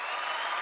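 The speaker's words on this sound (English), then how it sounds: "I think this is the applause button" A brief, dense wash of canned crowd applause plays from a podcast soundboard button, steady and unbroken for under a second.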